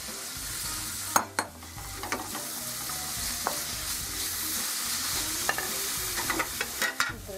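Artichokes sautéing in a pan, added after a brief browning step while making gnocchetti sardi with artichokes, give a steady close sizzle with scattered stirring clacks and scrapes throughout.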